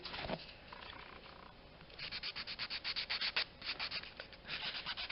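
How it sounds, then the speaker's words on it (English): A 180 grit file rubs back and forth over an acrylic nail overlay on a tip extension, a close, quiet scratchy rasp that turns into a steady run of quick rhythmic strokes, with no talking. "Taking the 180 grit file"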